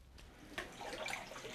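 Water poured from a bucket during field-condition showering in Cambodia splashes in a brief, close, bright rush that swells after a quiet start and keeps running to the end.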